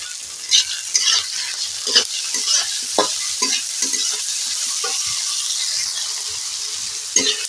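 Tomatoes fry in hot oil with salt for a soybean, tomato and green chilli dish, giving a steady close sizzle broken by repeated scraping stirs of a spatula in the pan, with no voices.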